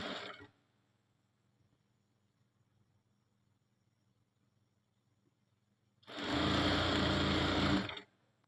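A sewing machine runs a straight stitch line through fabric in a short steady burst of about two seconds, close and fairly loud, after a long quiet pause.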